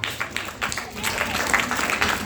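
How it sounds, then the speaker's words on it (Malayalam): Applause from an audience honouring teachers at a school learning festival, a steady broadband patter of many hands clapping that builds after a moment and carries on with faint voices mixed in. "അധ്യാപകർക്കും നല്ല ഒരു കയ്യടി ഈ സമയത്ത് നിങ്ങൾ കൊടുക്കുന്നത് നല്ലതായിരുന്നു"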